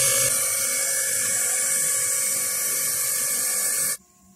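Pressurized gas hisses steadily into a window air conditioner's refrigerant lines after welding, charged up toward 350, a loud continuous bright rush that cuts off sharply near the end, leaving faint low hum.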